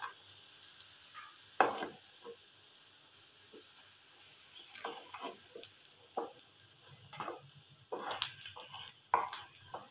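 Chicken snacks deep-frying in hot oil, fried until reddish, give a steady quiet sizzle with scattered crackles and pops that grow busier toward the end as pieces are stirred and lifted out.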